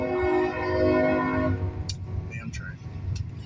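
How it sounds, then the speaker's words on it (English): A train passes nearby with a steady rumble and a loud horn-like tone that holds for about a second and a half, then fades, followed by faint scattered noises. "damn train."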